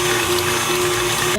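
A mixer blends paleo chocolate chip cookie dough made with coconut flour and baking soda, giving a loud, steady motorized whir close by that runs without a break before cutting off abruptly at the end.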